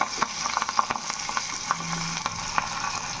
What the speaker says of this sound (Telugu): ఇంకొంచెం వేగాలి మనకి తాలింపు. ఇది చిటపట అంటుంటే స్మెల్ చాలా బాగుంది.